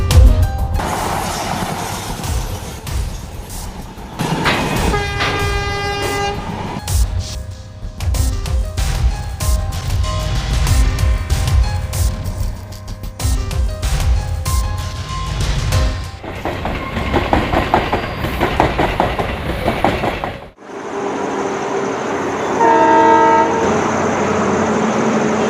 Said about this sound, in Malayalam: യാത്രക്കാരുടെ ശ്രദ്ധയ്ക്ക് ട്രെയിൻ നമ്പർ